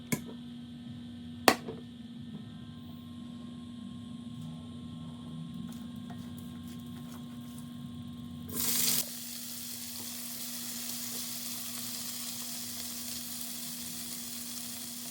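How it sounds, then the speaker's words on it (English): Steady sizzling of vegetables searing in canola oil in a hot pan, faint at first and then louder after a brief clatter, with no talking. "I'm just gonna go in with a little bit of canola oil just to sear these vegetables"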